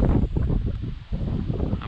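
Steady wind gusts roar across the microphone beside a small trout stream, making a dense, low rumbling whoosh. The wind dips briefly midway and then surges back.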